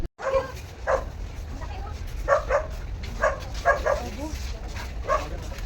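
A small dog yips and barks repeatedly in short bursts, fairly close, with people talking around it.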